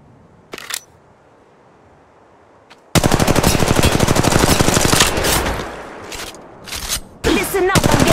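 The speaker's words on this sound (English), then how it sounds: "Listen up, I'm getting shot at." Rapid automatic gunfire from the mobile battle royale Apex Legends Mobile bursts out after a quiet stretch, with sustained loud volleys, brief pauses, and a few isolated earlier shots.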